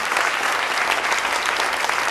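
An audience gives sustained applause for a speaker at a mindset talk, a dense, steady wash of many hands clapping at once, loud and even throughout with no voices over it.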